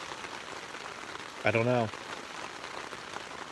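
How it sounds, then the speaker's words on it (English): Steady rain pattering on a tent at night during a backpacking trip in the New Hampshire mountains, a soft, even hiss throughout, briefly interrupted by a short spoken phrase. "The rain's going to put me to sleep again tonight."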